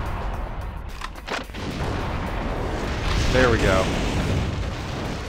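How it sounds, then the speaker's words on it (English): Booming explosions and grenade launcher blasts from the video game Metal Wolf Chaos XD rumble under steady game noise, with a burst near the midpoint, while someone talks briefly over them. "The arc on those grenade launchers is nuts."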